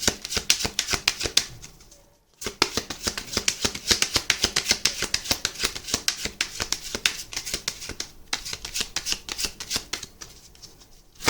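Tarot cards are shuffled by hand close up, riffling in quick, papery bursts. The bursts keep a steady rhythm, with a couple of short pauses between runs of shuffling.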